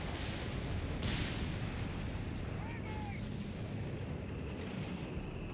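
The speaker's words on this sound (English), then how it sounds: "Artillery's just blasting them thanks to all the big guns the Americans have on the ridge." Artillery fire in the World War II strategy game Company of Heroes 3, on the 4v4 Alam El Halfa map: heavy booms and rumbling blasts from American big guns on a ridge roll continuously under a dense battle din.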